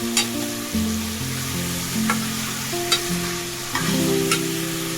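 Chicken pieces and reddened onion sizzle in oil in a cooking pot while being stirred, giving a steady loud frying hiss with occasional scrape clicks over faint tonal background music.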